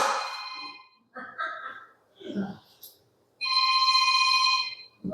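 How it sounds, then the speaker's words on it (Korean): A mobile phone rings loudly in a church during a sermon, a steady bright electronic tone sounding alone after stretches of a preacher's speech. "누구 전화입니까?"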